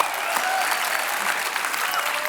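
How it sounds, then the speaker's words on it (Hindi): Studio audience applause welcoming guests onto The Kapil Sharma Show, a dense, loud burst of clapping from a large crowd that holds steady throughout. "जोरदार तालियां इनके लिए"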